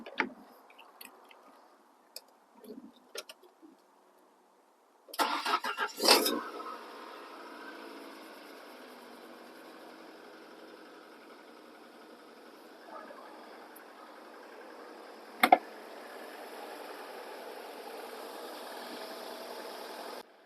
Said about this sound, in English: Starts the car.